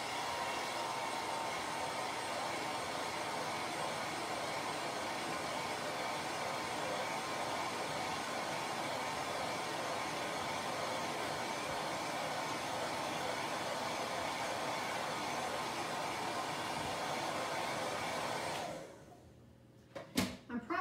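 A handheld hair dryer blows on a Chalk Couture chalk paint transfer, making a loud, steady, close whoosh for about eighteen seconds before it switches off and leaves quiet handling noises, with no talking.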